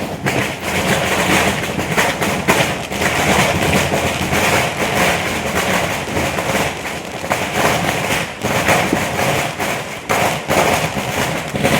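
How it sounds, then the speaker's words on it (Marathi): Diwali firecrackers bursting outdoors during Lakshmi Puja night, a loud continuous barrage of pops, cracks and thumps with dense overlapping blasts throughout. "मी तर फटाके वाजवत होते"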